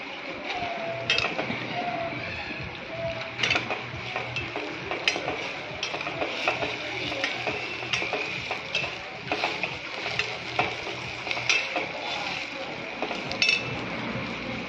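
Mutton roasts and is stirred in a pan at an outdoor riverside cook, giving a continuous sizzle broken by frequent metallic scrapes and clinks of the spoon against the pan.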